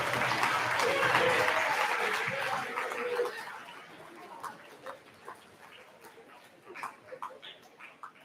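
A middle school awards ceremony crowd gives a group a round of applause. The clapping is full for about three seconds, then thins to scattered claps and fades out.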